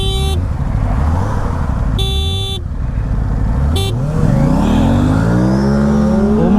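An RS 457 and a Ninja ZX-4R motorcycle drag race, engines roaring steadily and loudly up close with a rising rev sweep near the end, punctuated by three short horn-like tones.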